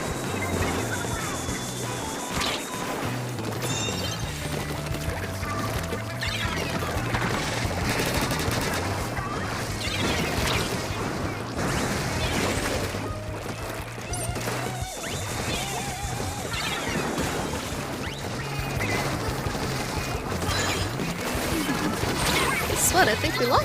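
Missiles bursting in Splatoon 3 amid dense, continuous battle noise, with repeated sharp impacts and crashes layered over game music for the whole stretch.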